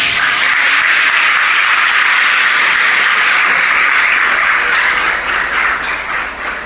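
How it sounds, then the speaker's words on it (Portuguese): A church congregation bursts into loud, dense applause during a sermon, a sustained roar of clapping close and full throughout, easing slightly near the end. "Vamos dar uma salva de palmas para a Aldo aqui."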